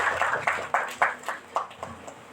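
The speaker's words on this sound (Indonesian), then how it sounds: "Tepuk tangan untuk Andika." A small group at a scout orientation in Surabaya claps for Andika, fairly faint, with about eight evenly spaced claps that taper off rather than building into full applause.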